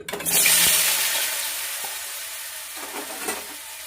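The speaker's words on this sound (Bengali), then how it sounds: "এবারে যে তেলটা আছে কড়াই, এতে আলু ভেজে নেব।" Potatoes drop into hot oil in a wok and burst into a loud hiss of frying that gradually settles into a steady sizzle, with faint stirring clatter near the end.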